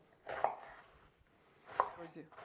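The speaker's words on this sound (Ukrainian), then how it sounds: "будемо нарізати цибульку. Не мілко." A knife chopping onion on a board, in a few slow separate cuts with pauses between them, close and fairly quiet.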